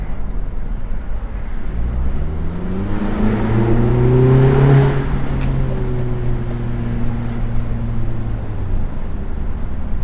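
An Audi A3/S3 with a turbo muffler delete accelerates, the engine note climbing and swelling loudly with turbo whoosh before easing off, heard from inside the car without talk.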